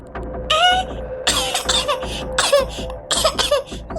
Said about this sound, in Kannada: ತುಂಬಾ ಕೆಮ್ಮು ಬರ್ತಾ ಇದೆ